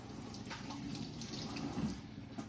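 A kitchen tap runs steadily while hands are washed, a continuous close splash of water with small shifts as the hands move, and no voices.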